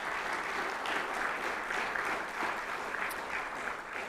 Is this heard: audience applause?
yes